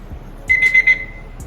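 A smartwatch's find-device alert gives a quick run of four high, bright beeps, fairly soft and close, then stops.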